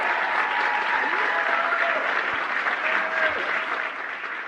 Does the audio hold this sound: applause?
yes